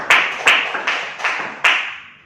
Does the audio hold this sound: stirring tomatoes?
no